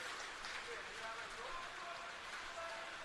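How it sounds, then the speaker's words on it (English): Rain drums steadily on the roof of UTAS Stadium during a Tasmanian football grand final, a constant hiss picked up by the effects mic, with crowd and commentary under it. "Probably hear in our effects mic the rain on the roof."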